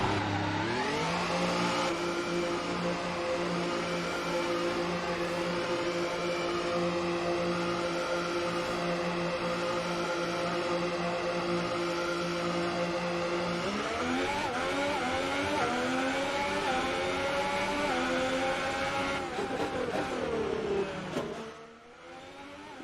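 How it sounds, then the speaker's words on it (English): F1 2018 race car engines from the video game scream steadily at high pitch, holding a sustained whine and then climbing in pitch through upshifts before cutting off at the end, loud and with no talking. "Talking about racing games, we are testing F1 2018."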